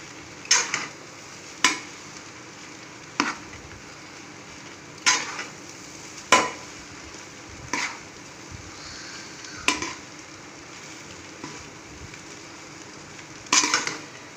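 A spoon gently stirs egg fried rice made with basmati rice in a pan, giving a series of soft, evenly spaced scrapes over a low background hiss.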